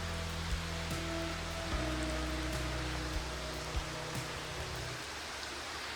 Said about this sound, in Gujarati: વરસાદ આવવા લાગ્યો.